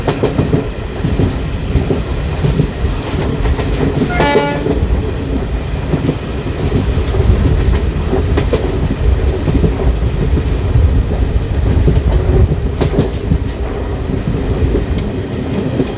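A Vistadome passenger train runs through hilly ghat country between Ranchi and Giridih, with a loud, continuous rumble and steady clickety-clack of wheels on rails, a brief metallic squeal partway through, and no talk.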